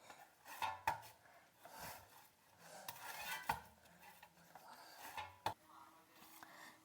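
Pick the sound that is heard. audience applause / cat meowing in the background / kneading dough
kneading dough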